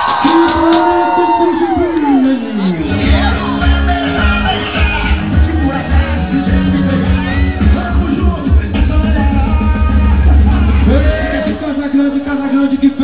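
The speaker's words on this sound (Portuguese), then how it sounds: "Dá um grito aí, bem alto" A large rodeo crowd at a festival in Cujubim, Rondônia, shouts, yells and whoops loudly in a sustained roar, with an announcer's amplified voice over it at the start and end.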